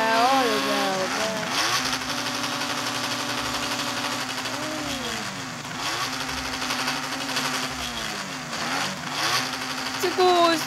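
A motorcycle engine in the Roblox game Rodograu revs and idles in repeated rising and falling pitch sweeps, steady and fairly loud, with a voice talking over it.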